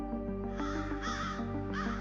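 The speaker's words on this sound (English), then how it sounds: "Then I heard the faint calls of crows." Crows caw repeatedly in a steady series of harsh calls over a constant low hum, moderately close and clear, with no talking.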